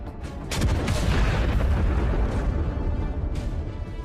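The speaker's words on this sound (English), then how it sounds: "Another epic explosion." A mine detonates under a Russian T-72 tank. A loud, dense roar of blast noise swells and holds for about four seconds, with no voices.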